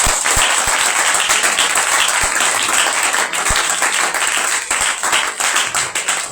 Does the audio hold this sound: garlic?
no